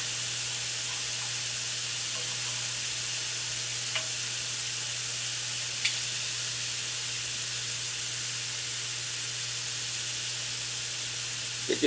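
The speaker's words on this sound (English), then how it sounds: "I'm going to flip these shrimps over." Shrimp marinated in olive oil sizzle steadily in a hot pan, a continuous close frying hiss with a low hum underneath and a couple of faint clinks as they are turned, no talking.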